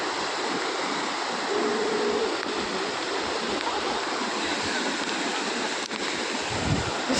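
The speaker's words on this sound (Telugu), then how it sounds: "వర్షం గట్టిగా పడుతుంది." Heavy rain pours onto open water, a dense, steady hiss of drops that fills the whole stretch evenly with no break and no voices.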